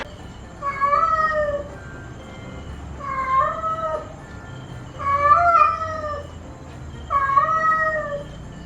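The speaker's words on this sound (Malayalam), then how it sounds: "എവിടുന്നോ ഒരു പൂച്ച സമയമാകുമ്പം ഇവിടെ വന്നേക്കും." A stray cat that turns up at feeding time meows four times at even intervals, each call clear, drawn-out and fairly close, over a low outdoor background with no speech.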